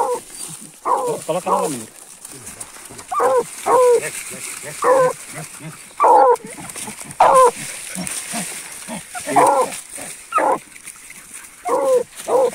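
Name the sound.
hunting dogs barking at a paca burrow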